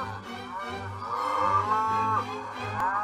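Dairy cows on a farm low nearby with deep, drawn-out moos, several calls overlapping and rising and falling in a steady stretch with no talk.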